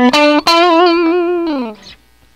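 A Squier Stratocaster electric guitar played on two pickups together rings out with a few sharp plucked notes, one sustained note bending slightly before fading out, heavily processed with effects.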